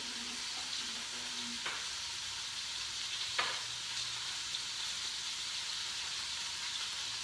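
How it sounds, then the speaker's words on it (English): Soft, continuous sizzling of barramundi fillets frying in a pan, with a couple of light clinks and a faint steady hiss, fairly quiet. "You got the sizzle."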